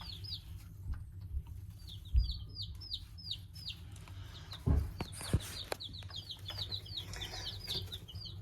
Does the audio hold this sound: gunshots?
no